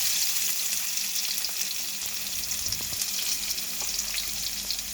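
Crushed garlic fries in a hot pan, giving a steady close sizzle with small crackles and pops, broken by a few soft stirring scrapes.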